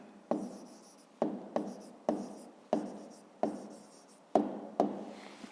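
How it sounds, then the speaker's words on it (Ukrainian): A pen writes the answer to a fifth-grade math exercise on paper, heard close up as a series of quick, scratchy strokes in short bursts with brief pauses between them. No voices are heard. "Ну що ж, записуємо тоді відповідь, пишемо відповідь."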